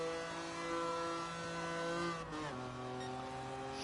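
A Lancia Stratos in Gran Turismo Sport, driven on a speedway oval, holds a steady high engine drone with strong harmonics, then shifts gear around midway and carries on droning at a lower pitch.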